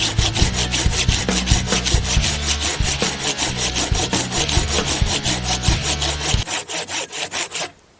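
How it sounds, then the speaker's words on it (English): Storm-fallen tree wood is cut by hand with a folding saw in steady, rhythmic back-and-forth strokes, close and loud, before the sawing stops near the end. "I got a folding saw and a knife, and that should be good, right?"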